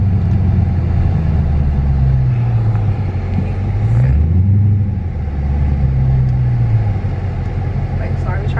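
A 2018 Dodge Charger Daytona 392 fitted with a ZAutomotive Tazer, heard from inside the cabin as a loud, continuous engine drone whose pitch rises and falls through several pulls, with muffled voices mixed in.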